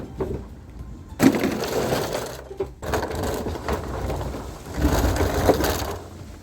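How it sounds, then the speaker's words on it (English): Fuel tank being dragged out from under a Nissan K11 Micra, with scraping, crunching and knocking of metal against the car in bursts over several seconds, close by with no talk. "Let's drag the fuel tank out now."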